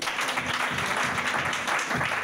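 A church congregation applauds in steady, continuous clapping that fills the space, with faint voices mixed in.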